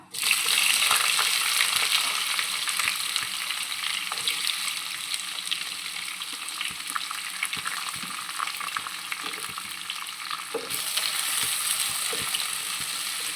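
Onions frying in hot oil for prawn biryani, a steady bright sizzle throughout with faint stirring scrapes beneath, close by and continuous.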